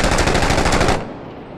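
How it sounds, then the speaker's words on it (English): A sustained burst of rapid automatic fire from a SAW machine gun in the video game Six Days in Fallujah, loud and steady for about a second before cutting off into a fading echo. "I'm gonna pull out the saw, see if I can't suppress him"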